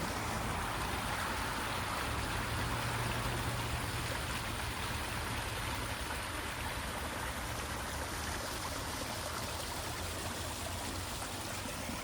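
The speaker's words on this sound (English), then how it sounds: "next to the pond and waterfall." Water from a waterfall pours steadily into a pond, a continuous broadband rush and trickle that stays even and close for the whole stretch with no voices.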